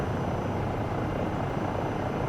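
A helicopter in Microsoft Flight Simulator 2024 flies a tour over Glacier Park, its rotor and engine giving a loud, steady, close broadband roar with no pause and no talk.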